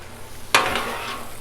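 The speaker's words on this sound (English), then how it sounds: "Got my little torch going." A kitchen torch ignites with a sudden whoosh and settles into a steady, close hissing roar that continues without talking, used while cooking margarita shrimp with tequila on a Blackstone griddle.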